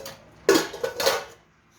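Plates and dishes clatter together in a brief burst of clinking and knocking, fairly close, as they are gathered up for washing, then the sound fades to quiet.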